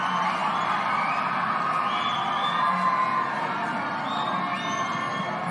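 Stadium crowd cheering and shouting at an under-17 football match between Tonga and Fiji, a steady roar of voices with scattered whoops and yells running throughout, broad and continuous at moderate loudness.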